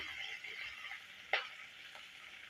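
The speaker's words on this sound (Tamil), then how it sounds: "இப்போ உளுந்து கலர் மாறிடுச்சு இதில் கொஞ்சமாக நான் பெரிய வெங்காயம் வெட்டி வச்சுருக்கேன் அதையும் சேர்த்துக்கிறேன்" Onions being added to urad dal frying in oil for mint chutney: a steady soft sizzle with one sharp stir or drop clatter in the middle, faint and close, no talking.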